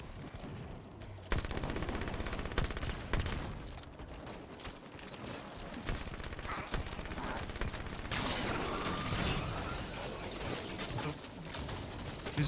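Halo 5 gameplay fills with dense, rapid bursts of automatic gunfire and impacts, a loud continuous fusillade with sharper blasts scattered throughout.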